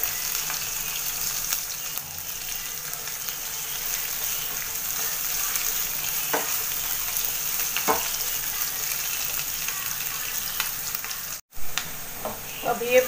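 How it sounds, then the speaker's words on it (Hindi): Onion and chilies fry in a pan with a strong, steady sizzle and occasional stirring clicks, close and continuous. "इसी के साथ में यहाँ पे मिर्ची भी डाल देंगे और इसको थोड़ा सा हल्का पका लेंगे।"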